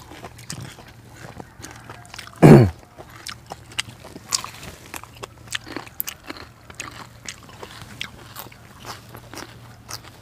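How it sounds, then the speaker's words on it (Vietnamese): A single loud, sharp crunch of a bite into spicy satay stir-fried octopus with bell peppers, close to the mic, followed by softer chewing and small mouth clicks over a faint background hum. "Nó giòn mà cắn tới đâu nó mềm,"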